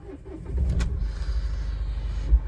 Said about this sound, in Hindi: हम चलाएंगे बुलेरो